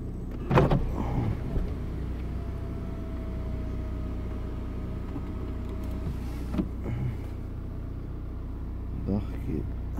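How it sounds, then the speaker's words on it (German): Panoramic sunroof on a 2010 Mini Cooper Diesel is driven open by its electric motor, giving a steady, faint whir that runs for several seconds inside the car, framed by a couple of clicks and thumps at the start and end. "Ich mache auf Dach"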